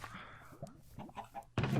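Chickens in the Minecraft video game cluck in a few short, close bursts, followed by a sudden louder noise at the end.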